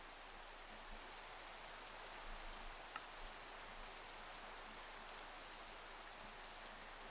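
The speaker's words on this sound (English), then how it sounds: "Why for you, rain?" Soft, steady rain hisses continuously in the Minecraft modpack Age of Engineering, a faint, even wash with a few slightly louder drops and no voices.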